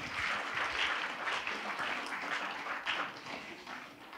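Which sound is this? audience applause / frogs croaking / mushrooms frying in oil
audience applause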